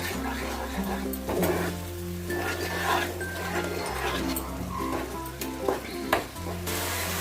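Spice masala and salt stir-fried in a pan for a boal fish kalia, with steady sizzling and stirring scrapes running throughout at moderate loudness, over a constant low hum and no talking.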